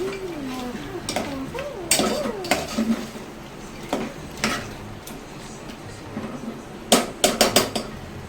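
Food being stirred in a cooking pot, with a series of metallic scrapes and clanks of a utensil against the pot in irregular bursts, close by, with brief low voice sounds early on.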